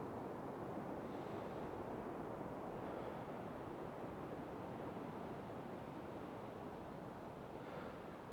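Ocean waves wash onto the shore with a soft, continuous surf hiss, faint and distant, with gentle swells in loudness and no voices.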